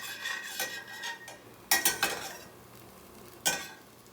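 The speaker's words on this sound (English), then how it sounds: "Take your spatula and you're able to lift up the edges." Spatula working under the edges of a plant-based savory crepe in a pan, giving soft scraping and a few sharp metallic clinks in short clusters over a faint sizzle.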